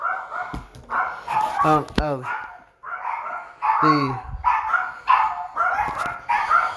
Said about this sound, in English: just don't worry about the dogs